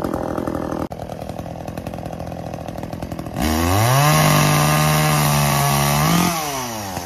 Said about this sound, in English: I gotta chop some things up with this chainsaw